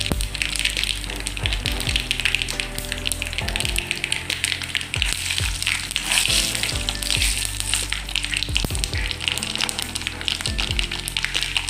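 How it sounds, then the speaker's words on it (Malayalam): Mustard seeds popping in hot coconut oil in a pan, a loud continuous sizzle close by, crackling throughout with sharp pops and the occasional scrape of a spoon. "കടുക് നന്നായിട്ട് പൊട്ടിക്കോട്ടെ"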